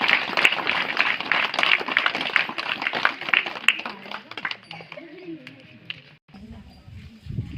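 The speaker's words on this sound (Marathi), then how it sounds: "दोन्ही सरांच्या एकदा जोरदार टाळ्या वाजवून स्वागत करायचं." A crowd claps loudly to welcome two teachers, the headmaster and a colleague, at a Zilla Parishad primary school in Dhamanvan. Dense, steady clapping fills about four seconds before fading as a voice speaks.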